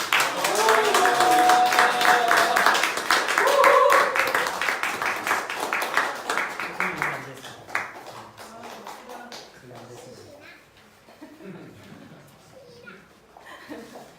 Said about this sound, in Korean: 여러분들의 큰 박수로 모시도록 하겠습니다